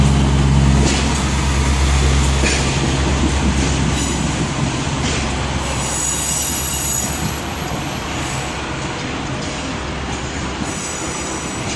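A train rolls loudly through Exeter St David's station on the Great Western Main Line late on a Thursday evening, its wheels squealing and clattering over the rails in a close, continuous rumble.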